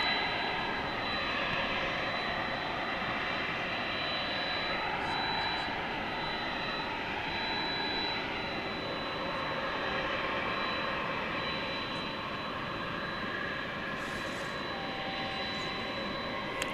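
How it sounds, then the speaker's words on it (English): A two-year-old Boeing 767 freighter sits at DFW airport at night, its jet engines making a steady, moderately loud hum and rumble with little change and no voices. "This is a 21st century 767 freighter, just 2 years old."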